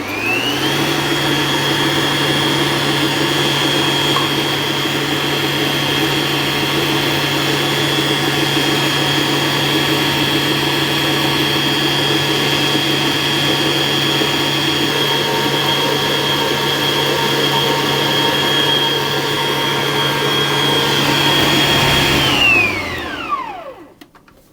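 An electric mixer beats egg whites and sugar toward stiff peaks, its steady, loud motor whine holding unchanged for over twenty seconds before winding down and stopping.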